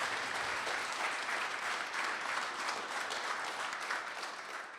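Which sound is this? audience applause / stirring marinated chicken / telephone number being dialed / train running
audience applause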